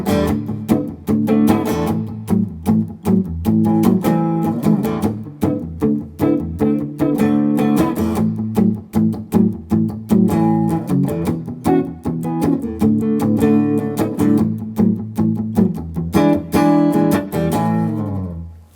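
A 12-bar blues progression with a quick change to the IV chord in the second bar, played as rhythmic strummed guitar chords, steady and clear, with no talking.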